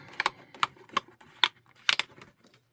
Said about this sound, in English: we're going to use this typewriter